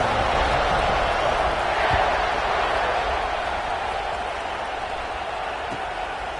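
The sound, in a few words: football stadium crowd cheering before kickoff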